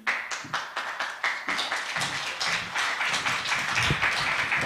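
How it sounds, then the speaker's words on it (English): An audience claps steadily, the applause building from scattered claps into a fuller, continuous round. "I hope that you can hear the applause from the audience."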